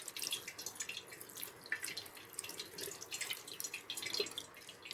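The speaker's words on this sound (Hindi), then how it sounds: "उसको हम इस ठंडे पानी से धीमे धीमे करके इस तरीके से पूरा ऊपर नीचे करके पूरा धो लेंगे" Fresh chhena (paneer) curds for rasgulla are rinsed by hand in cold water, giving a continuous soft splashing and trickling with small drips, fairly faint and without talk.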